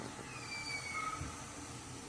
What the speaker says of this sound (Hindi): तो अब इसके अंदर एयर जा रही है, इसकी वजह से हमें एक साउंड सुनाई दे रहा है